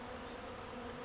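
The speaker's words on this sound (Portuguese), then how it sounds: "O som que estão ouvindo são das abelhas polinizando." Bees pollinating jabuticaba flowers during an off-season bloom, a soft continuous buzzing drone heard close and faint, with no voices.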